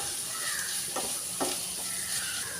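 Onions sizzle steadily in a hot pan with ginger and garlic, cooking for a Kerala toddy-shop style beef fry. A few soft stirring scrapes sound close over the continuous frying hiss, with no talk.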